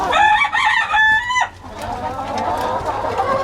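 Chickens and a rooster on a small farm during morning chores, with a loud crow sweeping up and breaking off in the first second and a half, then steady clucking and fowl chatter close by.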